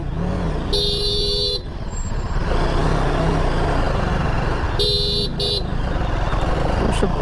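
Horns honk in a traffic jam on a mountain road in Kodaikanal. Two bursts of horn, each about a second long, sound over a dense, continuous rumble of engines and road noise.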